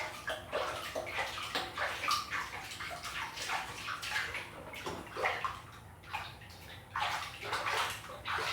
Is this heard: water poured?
yes